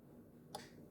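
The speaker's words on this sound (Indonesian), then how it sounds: "itu suara filter kameranya bergeser ke mode malam" A single faint, sharp click of a CCTV camera's IR-cut filter switching to night mode, against a quiet background hum.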